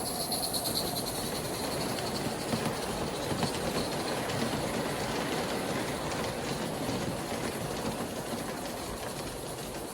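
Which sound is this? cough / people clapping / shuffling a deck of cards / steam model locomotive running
steam model locomotive running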